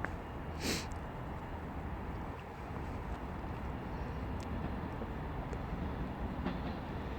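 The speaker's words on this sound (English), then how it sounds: "arriving in now is going to be the 1404 Virgin Train service to London Euston via Crewe" A Virgin train pulls into Stockport station on the West Coast Main Line, a steady low rumble of wheels and carriages heard at some distance, fairly quiet, with a couple of faint sharp squeals above it.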